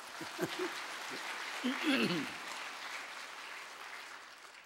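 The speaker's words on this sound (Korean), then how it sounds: "박수 한번 해드립시다" A church congregation applauding during a service, heard as a faint, distant, even patter of hands with a brief voice rising over it near the middle.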